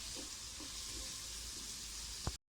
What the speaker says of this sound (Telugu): గ్రీన్ చిల్లీస్ అయితే ఫ్రై చేసుకోవాలన్నమాట.